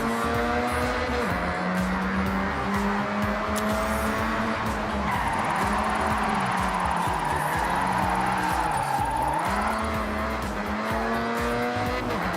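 A car drifts in Forza Horizon 6. A high engine roar holds steady while the tires squeal in long, continuous skids, and the pitch of both sweeps up and down through the slides.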